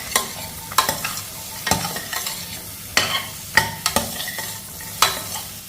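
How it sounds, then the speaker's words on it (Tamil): Chopped vegetables sauté with garlic, cumin and green chili in a pan, a steady sizzle broken by repeated scraping stirs roughly once a second, close and clear with no talking. "எல்லாத்தையும் ஒரு வதக்கிடுவோம்."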